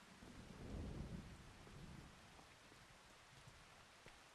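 Rain and thunder in the Farming Simulator 25 video game: a deep rumble of thunder swells and fades over the first two seconds, with steady rain hissing throughout and a few scattered drops.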